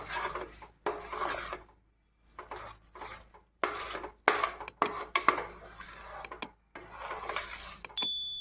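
A spoon scraping and stirring thick karupatti (palm jaggery) halwa with ghee in a pan: repeated rasping strokes against the metal in uneven bursts with short pauses, close and clear, with no talk.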